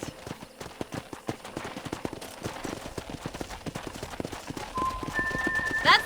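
Horses clip-clop at a walking pace past a corral in the Red Dead Redemption video game, hooves steady and fairly close under a busy ambient bed, with a few brighter whistle-like tones near the end.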